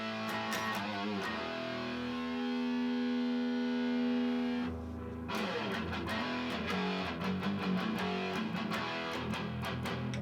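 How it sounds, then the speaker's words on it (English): An electric guitar played through a heavy metal distortion pedal rings out loud and saturated, with long sustained chords followed by a run of sharp, rhythmic strummed hits. No one talks. "Heavy metal distortion."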